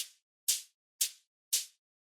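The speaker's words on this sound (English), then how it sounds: "More vocoding, more vocoder percussive sound." A crisp, bright percussive hit repeats four times at an even half-second pulse, each burst sharp at the attack and quickly fading, isolated in silence.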